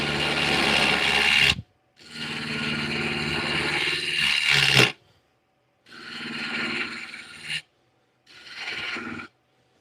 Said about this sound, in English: I am actually going to use the bowl gouge for this next part because I got to get a little bit closer to the chuck.